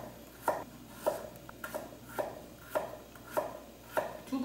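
Carrot and radish are sliced with a knife on a board, about eight evenly spaced crisp chops in a steady rhythm, close and fairly quiet, no talking.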